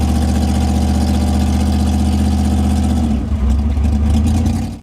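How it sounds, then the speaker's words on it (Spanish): A loud Jaguar car engine runs close by with a harsh, steady droning rumble and strong tonal hum, shifting in pitch near the end before cutting off abruptly. "nadie sabe lo escandalosamente ruidoso que era realmente el coche"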